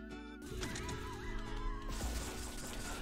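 Mort the chicken from the Pizza Tower video game squawks with honking, goose-like cries over busy game music and effects, loud and close.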